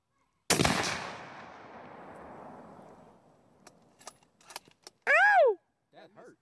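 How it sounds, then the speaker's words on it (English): A single loud gunshot from a firearm rings out nearby and decays slowly, followed by brief clicks and a loud voice reacting. "Let me know when you're about to shoot."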